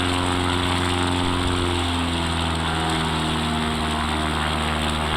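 An X Cub backcountry airplane's propeller engine drones loud and steady in flight along the Monterey Bay shoreline, a constant close hum with harmonic tones that shift slightly in pitch and no talking.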